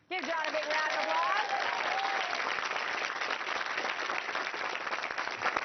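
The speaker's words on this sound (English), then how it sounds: "Give John a big round of applause" Audience applause for a guest named John introduced on stage in a commercial, a dense, steady wash of many hands clapping that starts abruptly, stays loud throughout, with a voice cheering over the start.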